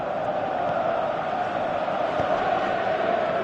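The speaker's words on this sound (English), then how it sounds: "you can feel and hear how the crowd are reacting to all of this" A football stadium crowd in the video game PES 18 gives off a steady, loud roar. The dense murmur holds evenly from start to finish, with no single voice rising out of it.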